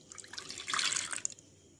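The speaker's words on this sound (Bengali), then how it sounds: "জলটা এবার আমি এই পাত্রে আমি ফেলে দেবো" Water poured off salted, soaked ridge gourd into a bowl, a short close splashing trickle that swells to a fuller pour and then tapers into a few drips.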